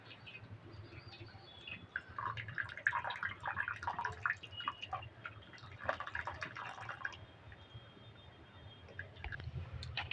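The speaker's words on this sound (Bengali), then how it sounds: "আমি এটা ভালো করে ছেঁকে নেবো" Water drips and trickles faintly as rasgulla chhena is strained through thin cloth, a light irregular patter of drops with a few small bright chirp-like sounds.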